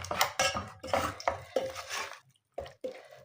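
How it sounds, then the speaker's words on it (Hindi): Spinach stir-fried in oil in a pot, with a utensil scraping and clattering against the metal in repeated strokes, close and fairly loud, pausing briefly before a few final scrapes. "अब ये पालक इसमें डाल के और इसकी भी भुनाई करनी है"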